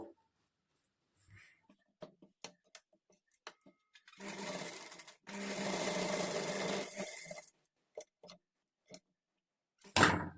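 Domestic sewing machine stitching a lining to main blouse fabric for a princess-cut blouse, with two sustained whirring runs between scattered clicks and taps of handling, close and clear.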